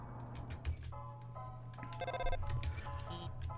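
A phone rings in the video game Undertale, a bright electronic ringtone with repeating tonal bursts playing over a steady low game background hum, fairly prominent throughout.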